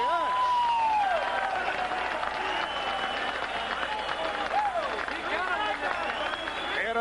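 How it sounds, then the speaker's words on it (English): Boxing arena crowd roaring and applauding at the close of a bout between Bobby Chacon and Cornelius Boza-Edwards, a loud, sustained wash of cheers and clapping with whistles rising over it. "And the crowd reacts."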